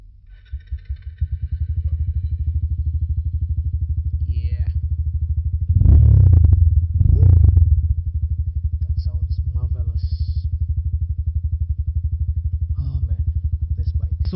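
A Dayun DY 200 motorcycle fitted with a big aftermarket muffler idles in neutral, a steady close low rumble with a brief louder rev partway through.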